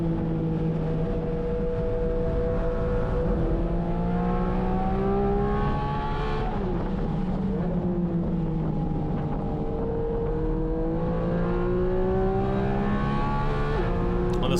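A Porsche 718 Cayman GT4 RS on track, its engine revving steadily toward redline with rising and falling pitch sweeps through PDK gear changes, a continuous loud in-car drone throughout.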